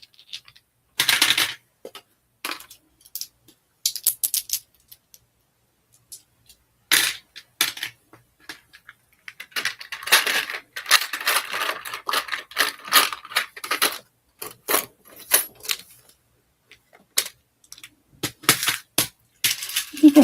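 Glass beads, including heart-shaped ones, are handled and poured in sharp clicking, rattling bursts, sparse at first and then denser, close and fairly loud.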